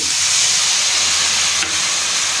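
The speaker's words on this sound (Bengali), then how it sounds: "একটু নাড়াচাড়া করে আমি এবার দিয়ে দিচ্ছি টমেটো, খুব সামান্য গরম জল" Tomatoes and vegetables with drumsticks fry loudly in a pan, a dense, steady hiss and sizzle that fills the short stretch, with a faint stirring scrape near the end.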